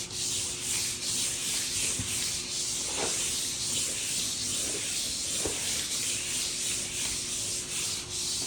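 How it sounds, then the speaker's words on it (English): A spray bottle mists water onto Vahallan Enchanted Bliss wallcovering in a few short, soft hissing squirts over a steady close rubbing wash. "Wet it down with a spray bottle and just wipe your water in with the sponge again."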